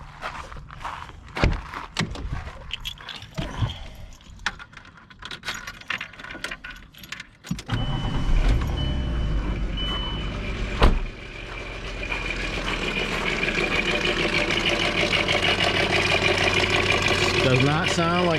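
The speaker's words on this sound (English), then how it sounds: "I got this 2002 Volkswagen Eurovan, and it is making a weird rattling noise." Keys jingle and footsteps come first, then a 2002 Volkswagen Eurovan with a VR6 engine cranks and catches. It settles into a steady, loud idle carrying a persistent rattle.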